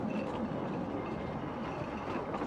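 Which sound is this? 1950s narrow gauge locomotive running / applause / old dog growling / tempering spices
1950s narrow gauge locomotive running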